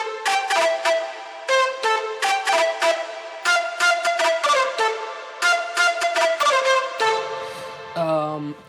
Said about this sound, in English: the Irish flute sounds like this.